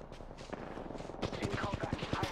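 Rapid automatic gunfire in the shooter Apex Legends, a string of sharp, evenly spaced shots growing louder and denser toward the end, with scattered single shots and battle noise before it.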